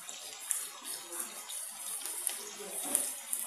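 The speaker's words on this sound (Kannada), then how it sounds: "ಇದಕ್ಕೆ ನಾವೀಗ ಇದು ಚೆನ್ನಾಗಿ ಬಿಸಿ ಮಾಡ್ಕೊಂಡಿರೋ ಬಿಸಿನೀರನ್ನ ಹಾಕ್ತಾಯಿದ್ದೀನಿ" Hot water is poured into a pot of Assamese-style fish curry, a faint continuous splashing trickle with small bursts, fairly close and quiet.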